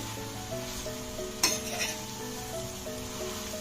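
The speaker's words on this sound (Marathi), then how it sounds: "आता आपण सोयाबीन असे व्यवस्थित सगळे असे छान हलवून घेतले" Marinated soybean chunks sizzle steadily in a pan as they are stir-fried for a spicy dry Maharashtrian bhaji, with a brief scrape or clink of the spoon partway through, close and moderately loud throughout.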